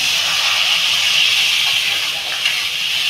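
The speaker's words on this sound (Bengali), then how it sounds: "এবার বন্ধুরা আমি পরিমাণ মতো জল দিয়ে দেবো" Water poured into a cooking pan for a Bengali mango tok with prawn heads, a steady close hiss and gush that runs unbroken for the whole stretch with no talk over it.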